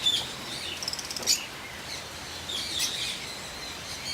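A flock of rescued lovebirds chirps in short, high tweets with a few louder squawks. The calls are scattered and moderately close over a constant hiss, with no talking.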